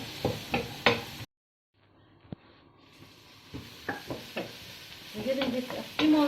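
Vegetables with carrots sizzling and being stirred in a pan, soft scraping and clinking strokes with a quiet frying hiss, broken by a brief silent gap, close and fairly faint.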